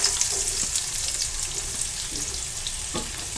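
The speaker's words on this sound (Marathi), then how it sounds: "कांदा मी लालसर होईपर्यंत व्यवस्थित भाजून घेणार आहे." Chopped onion fries in hot oil with cumin seeds in a wok, a loud, steady crackling sizzle heard close up, with occasional scrapes of a spatula stirring and no talking.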